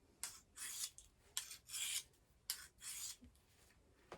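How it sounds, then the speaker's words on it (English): A kitchen knife is sharpened by hand on a medium-coarse or fine sharpening stone in the traditional way, giving a series of rasping strokes, some short and some longer and sustained, in a loose back-and-forth rhythm. The strokes are close and fairly quiet. "Then you can sharpen that knife."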